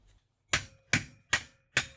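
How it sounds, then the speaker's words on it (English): Hammer tapping the metal shaft of a scrapped food processor, four sharp, evenly spaced knocks in quick succession, close and clear with no talk. "I'm just going to tap that shaft with the hammer."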